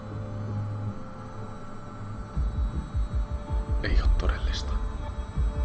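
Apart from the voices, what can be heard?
washing machine running noise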